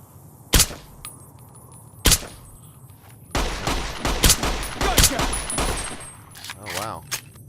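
Gunfire in Fallout New Vegas: two loud isolated shots, then a quick burst of several sharp cracks in close succession, near and punchy, with game sounds and some talking in between.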